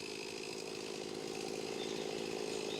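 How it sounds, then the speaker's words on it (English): Chainsaws cutting wood, a steady high buzzing drone that holds unbroken at a moderate distance, with no voices. "they were both busy cutting wood with a chainsaw"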